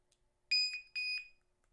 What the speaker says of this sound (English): this is a voltage checker, voltage alarm.